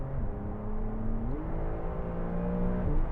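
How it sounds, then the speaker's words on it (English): A Porsche 992 Cabriolet in Sport Plus mode accelerates hard on kickdown, its engine note climbing steadily with quick gear changes breaking the rising drone, loud and close throughout. "I'm in Sport Plus and I did kickdown and it really took off"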